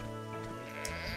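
A sheep in the video game Oblivion lets out one wavering, nasal bleat, fairly close and clear, with no talking over it.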